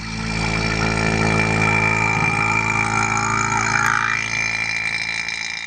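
A vacuum degassing machine pulling air from plastic resin, running as a loud, steady motor drone with a rising whine partway through and a slight drop toward the end.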